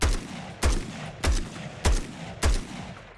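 Five evenly spaced rifle shots from a Minutemen rifle mod in Fallout 4, each a loud, punchy bang with a short decaying tail, fired at a steady semi-automatic rhythm.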